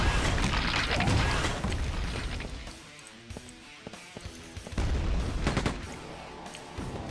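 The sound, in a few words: rocket launcher fire in Quake 2 video game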